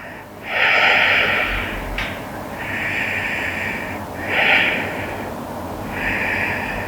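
Slow, audible nasal breaths during a yoga stretch, a forceful inhale-exhale near the start followed by several steadier breath cycles, close and alone over a quiet background.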